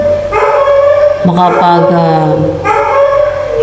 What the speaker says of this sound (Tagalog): siya maingay ang aso.